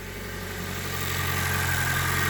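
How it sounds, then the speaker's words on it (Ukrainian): A running 2022 Toyota Corolla engine with direct fuel injection, a steady close idle hum with a soft continuous rustling ticking layered over it, slowly growing slightly louder. "Зараз ми чуємо цей шелест це не що інше, як робота е, системи безпосереднього впроскування пального."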